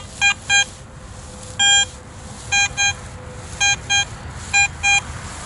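Repeated electronic beeps in pairs, with one longer tone, sound over quiet background hiss. They come in short, evenly spaced bursts, like a metal detector signalling.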